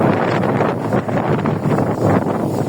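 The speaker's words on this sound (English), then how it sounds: "I have a little wind gust." A gusty wind buffets the microphone in a home vegetable garden, a steady loud rush of blustery noise filling the whole clip with no voices heard.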